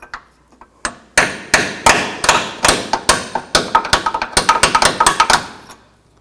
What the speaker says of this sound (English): Then I'll take a punch and a hammer and just tap it the rest of the way out.